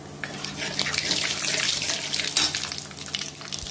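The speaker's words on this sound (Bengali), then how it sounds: "এর মধ্যে আমি তেজপাতা, একটু কালো জিরে ফোড়ন দিয়ে দিলাম" Bay leaf and black cumin hit hot oil left from frying fish, a loud rushing sizzle that swells and crackles steadily, close and without talk, much like running water.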